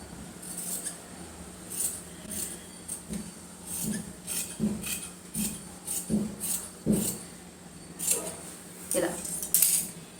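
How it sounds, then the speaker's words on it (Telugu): Scissors snip through pattu lehenga fabric in a series of irregular crisp cuts, with soft rustling of the cloth between strokes, close and fairly quiet against a low steady hum. "ఇప్పుడు ఈ డ్రా చేసిన ప్రకారం కటింగ్ చేసేసుకుందాము."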